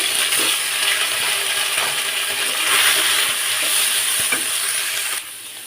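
Fish frying in hot oil with cumin seeds, a dense steady sizzle running loud and close for about five seconds, with light stirring clinks, then cutting off abruptly near the end.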